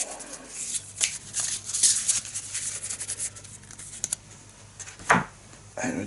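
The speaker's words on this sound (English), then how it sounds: "Let's give it a quick shuffle" Someone shuffles a deck of cards for the Eldritch Horror board game, close up, with repeated rustling riffles and soft slaps of cards in uneven bursts for several seconds.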